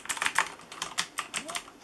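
Typing on a Corsair K95 RGB keyboard with Cherry MX Blue switches, a quick run of crisp, clicky keystrokes at an uneven rhythm, close up and fairly quiet.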